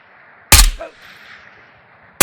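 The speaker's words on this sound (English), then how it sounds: "Suppressed AK Alpha." A suppressed AK Alpha rifle fires two sharp, loud reports about a second and a half apart in Ghost of Tabor, each a close, punchy crack with a brief tail and quiet between them.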